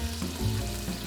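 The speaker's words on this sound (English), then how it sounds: "the first thing we're going to add in there is our bacon. We're also going to add our garlic" Bacon and garlic sizzle and fry in a pot as the base for a three-bean chili, a close, steady crackle with a few brief stirring shifts.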